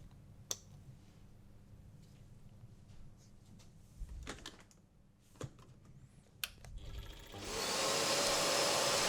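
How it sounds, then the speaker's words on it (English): A power tool cuts a small outline in wood while hooked to a dust extractor, giving scattered clicks and bursts before a loud, steady broadband roar of the extractor and cutting fills the final seconds. "I'm hooked up to an auto extractor"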